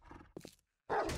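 A dog barks inside the video game 7 Days to Die: two quick, moderately close woofs followed after a brief silence by a louder, harsher bark, all fairly faint overall.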